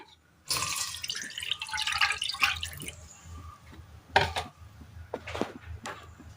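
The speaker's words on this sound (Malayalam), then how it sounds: "ഒരു പാൻ അടുപ്പത്ത് വെച്ച് കൊടുത്തതിന് ശേഷം അല്പം വെള്ളം ഒഴിച്ചു കൊടുക്കാം" Water splashes into a pan on the stove for a couple of seconds, then stops, followed by a few light clinks and taps nearby.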